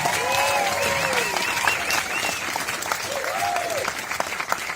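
A film festival audience applauds a filmmaker with continuous clapping, while whistles and cheering voices rise and fall over the steady clatter of hands.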